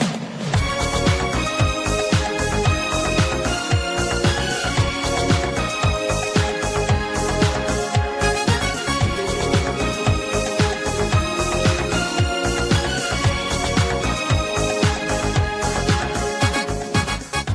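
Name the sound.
orchestral string samples with complementary brass part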